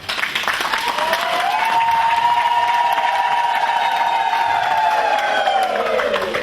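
An audience at an interview event claps and cheers for a sponsor, loud sustained applause with some whoops and a rising shout over it.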